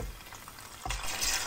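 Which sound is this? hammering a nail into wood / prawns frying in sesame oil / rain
prawns frying in sesame oil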